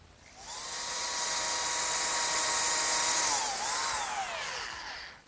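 A table-mounted router fitted with a dovetail bit cuts the male half of a dovetail joint in pine, spinning up to a loud, steady high whine that dips and recovers as the bit bites the wood, then cuts off sharply at the end.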